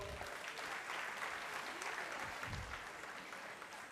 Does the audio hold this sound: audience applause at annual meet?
yes